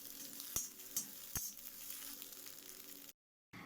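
An egg fries in a kadai, giving a steady, moderately faint sizzle with a few sharp clicks of a utensil against the pan before a brief dropout.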